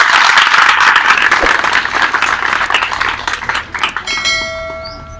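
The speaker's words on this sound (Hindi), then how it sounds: "ताली बजा दीजिए आप लोगों का।" An audience at a college event claps in a dense, loud burst of applause that thins out toward the end, and a ringing bell-like tone takes over in the final second.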